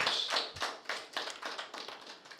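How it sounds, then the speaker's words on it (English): Audience applause at a policy paper presentation, with scattered hand claps pattering unevenly, moderately close, thinning and tapering off within a couple of seconds, no voices. "round of applause."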